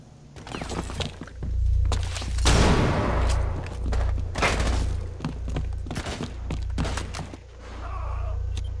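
Gunfire in Rainbow Six Siege during a house team deathmatch, with bursts of shots, thuds and impacts landing in clusters across the scene, some loud and close, others more muffled, over a steady low hum.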